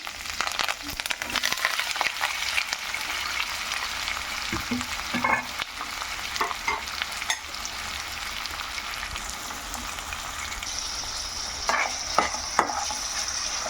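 Green chilies, curry leaves and onions fry in sesame oil with a steady, close sizzle, and stirring clatters in short bursts now and then. Nobody speaks.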